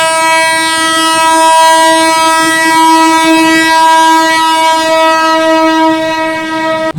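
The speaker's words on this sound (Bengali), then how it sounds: "মায়ের জন্মভূমিতেই প্রথম ট্রেন আসছে" A train arriving at Jayrambati station on its first run during a railway safety inspection, its loud sustained horn blaring close and steady for the whole stretch before cutting off abruptly.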